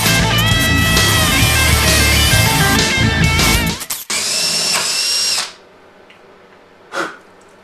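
A power drill with a 7.5 mm bit bores through a plug adapter, a loud whining grind that stalls briefly, resumes, then cuts off, followed by a short burst afterward.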